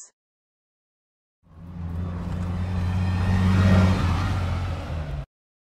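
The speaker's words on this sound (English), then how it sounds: "Bus." A bus engine starts up and runs steadily for several seconds, a loud low rumble with strong harmonic drone, swelling slightly as it revs before cutting off abruptly; no talking.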